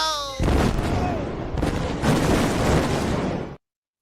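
A loud, sustained explosive rumble with crackling bursts that rolls on for about three seconds before cutting off abruptly.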